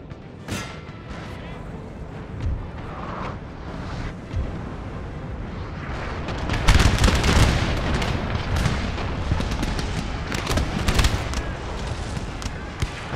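Cannon and artillery fire in a Napoleonic-era battle in Napoleon: Total War, with repeated booming blasts that grow louder and denser midway, set against a constant battlefield rumble and a voice speaking over it.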